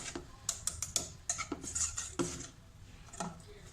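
Chopped walnuts stirred into brownie batter in a bowl, giving quiet irregular clinks and scrapes of a utensil against the bowl, close and faint, with no talking.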